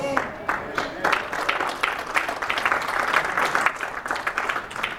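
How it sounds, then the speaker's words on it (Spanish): A church congregation applauds during a sermon, with steady massed clapping lasting several seconds while voices carry on over it. "debe que haber un aplauso, un gloria a Dios"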